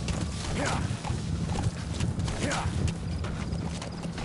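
Horse hooves clip-clopping in the Metal Gear Solid V video game: steady, fairly loud repeated hoof beats over continuous game ambience, with a voice speaking at times.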